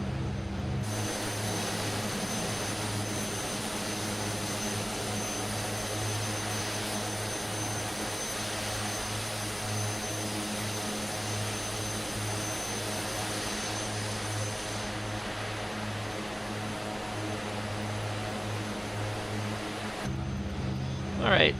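The airplane engine drones steadily in a flight simulator game over the Bahamas, a constant tonal hum that runs unbroken throughout the clip.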